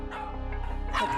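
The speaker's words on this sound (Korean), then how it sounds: "짖다 말고 소파 밑으로 숨어버리는 칸초." A small anxious dog at home gives a few short barks and yips, close by and mixed with some faint voice sounds.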